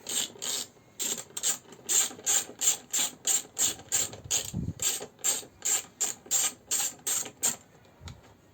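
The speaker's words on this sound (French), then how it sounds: "un écrou de 10 ici, clé à cliquer, vous allez moins vous embêter, et on dévisse" A ratchet wrench clicks off 10 mm nuts on a first-generation Nissan Qashqai while removing the rear light. Close, crisp pawl clicks come in steady rhythmic bursts of about three per second, with no talking.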